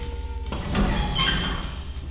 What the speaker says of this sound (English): The recording of a creaky elevator.